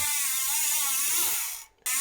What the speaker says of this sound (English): I'll just roll it through, and this gets the rollers moving and gets everything all lubed up